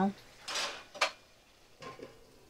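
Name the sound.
stirring in pot, covering it with lid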